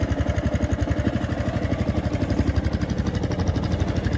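A carbureted 2006 Honda Big Ruckus PS-250 scooter engine idles after a cold start, a close, steady rapid chugging pulse with an even rhythm, alone with no talk.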